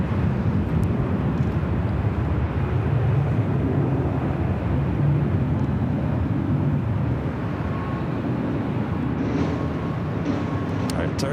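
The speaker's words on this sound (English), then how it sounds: "All right, Turkish flight 180 heading back to Istanbul." A Turkish Airlines jet takes off from LAX, bound for Istanbul: a broad, steady roar of engines that holds for about eleven seconds, slightly distant and under a faint voice on a radio feed.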